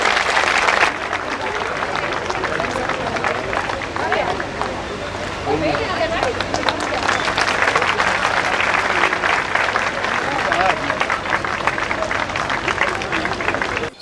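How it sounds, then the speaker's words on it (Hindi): A crowd at a Jantantra Yatra public gathering in Sriganganagar, Rajasthan claps loudly and steadily to welcome a guest, a dense continuous applause with voices mixed in. "इनका भी जोरदार तालियों के साथ स्वागत हो"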